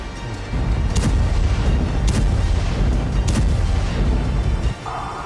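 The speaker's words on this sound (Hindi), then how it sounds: "यह धमाका गाजा के अल शिफा अस्पताल से कुछ ही मीटर की दूरी पर हुआ" Bomb blasts near Al-Shifa hospital in Gaza ring out as three sharp, loud booms about a second apart over a constant low rumble.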